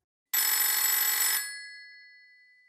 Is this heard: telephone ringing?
yes